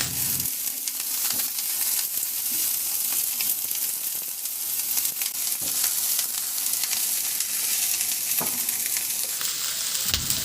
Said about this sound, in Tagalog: Ilagay ko na yung cabbage o repolyo.